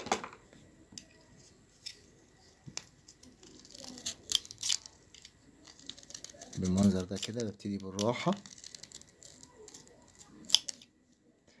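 Close, dry scraping and shaving of a knife on a reed calligraphy pen, cut slice by slice in short strokes with a denser burst near the middle, while someone talks quietly over the work.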